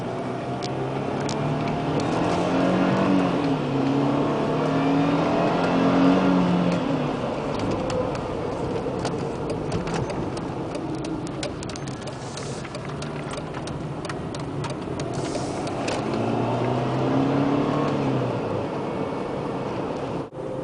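A 2003 Mercedes C230 with an automatic transmission pulls through its gears on a test drive. Steady engine and road noise rises and falls in pitch as the transmission shifts, heard from inside the cabin with no talking.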